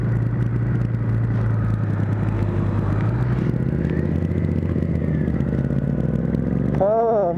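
A 2010 Honda CBR1000RR engine drones steadily while being ridden, loud and close with constant wind rumble, and a rider's voice briefly rises over it near the end.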